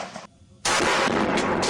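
A firearm fires with a sudden loud, close blast that ends a brief quiet stretch, followed by a sustained roaring report and further sharp bursts.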